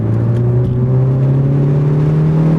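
A stock 2018 Ford Focus ST accelerating hard around a race track turn, its engine droning loudly and steadily with a slowly rising pitch for a few seconds, close and alone.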